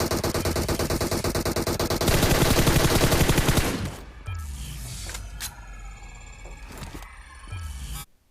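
Rapid automatic M416 rifle fire in PUBG Mobile rattles loudly for several seconds, then cuts to scattered single shots and game effects with a final burst, no talk.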